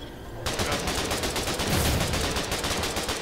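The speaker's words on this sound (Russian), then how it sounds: "Он стреляет по нам!" Automatic gunfire in the war game Foxhole pours down on the player's position, a sustained loud stream of rapid shots that starts abruptly and continues to the end without talk.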